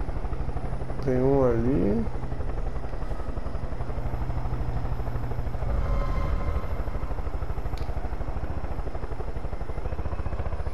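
A helicopter in the video game Far Cry 5 drones with a steady, loud rotor thrum throughout, while players talk in Portuguese over it.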